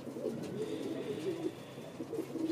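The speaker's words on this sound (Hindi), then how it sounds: "और एक कबूतर है देखिए भाई, ये भी बढ़िया क्वालिटी में है।" A white highflyer pigeon coos close by in soft, repeated rolling phrases, a steady murmuring call lasting a couple of seconds with no voices over it.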